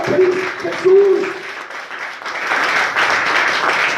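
A church congregation breaks into applause during a sermon, a loud wash of clapping that swells and continues steadily for several seconds after a preacher's voice.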